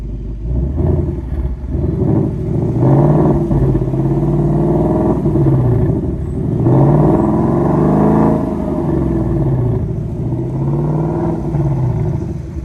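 A Ford Mustang's exhaust, with resonator delete and H-pipe, roars loudly up close, engine revving in repeated rising and falling surges over a deep, steady rumble.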